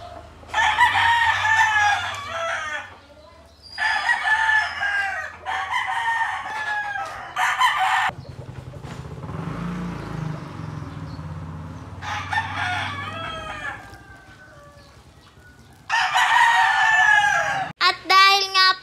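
Chickens and roosters crowing and clucking in a flock after being bathed in hot weather, repeated loud crows in bursts with clucking between them, close by.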